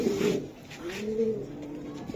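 Racing pigeons coo close by, soft low rolling coos repeating over a faint background hum.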